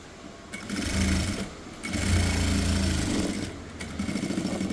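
A sewing machine stitching a full-sleeve shirt, its close rapid mechanical whirr running in two long bursts with a short pause between, then stopping near the end.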